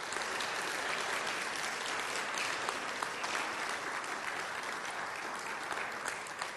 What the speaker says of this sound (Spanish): Yo quiero que le des un aplauso al Señor con fuerza